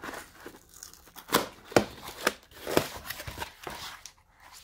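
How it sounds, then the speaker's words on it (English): A sticker being peeled off a sharpening stone, giving close, uneven crinkling and tearing sounds in irregular bursts. "We'll get the sticker off here."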